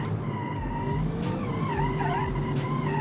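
Car tire skidding while locked in a racing video game, a loud continuous squeal that wavers in pitch over a steady engine drone, close and without speech.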